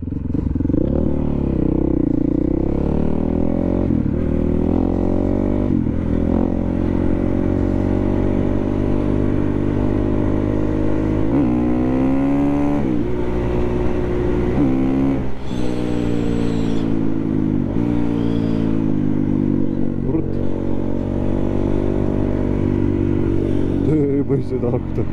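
Motorcycle engine labouring through mud, revving loud and near in long rising and falling surges, with some clatter and a voice talking at times.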